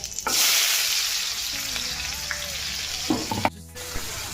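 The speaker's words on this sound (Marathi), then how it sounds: "थोडा भाजून घ्यायचा कांदा" Onion frying in a pan with cumin for pav bhaji: a loud burst of sizzle right after it goes in, then a quieter crackle with spatula knocks and stirring scrapes.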